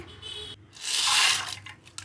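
A brief rushing rattle of dry split chickpeas poured into a pressure cooker, lasting under a second, with a small clink at the end.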